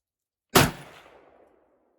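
One 300 Blackout rifle shot, a Sierra 110 g handload over 19 grains of Lil'Gun powder: a single loud, sharp crack that decays into a short outdoor echo, with no talking.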